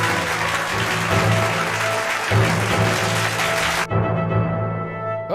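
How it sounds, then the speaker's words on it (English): A canned applause sound effect plays on a live stream, a dense burst of clapping and cheering that runs for several seconds and then cuts off abruptly. "Do the applause."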